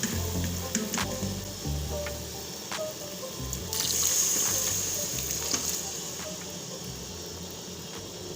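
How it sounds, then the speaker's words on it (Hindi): Water poured into a pan of roasted black chickpeas sets off a hissing sizzle with bubbling and splashing, moderately close and steady, swelling briefly midway, with faint clinks of a utensil and no clear talk. "अब इसमें मैं डालूँगी थोड़ा सा"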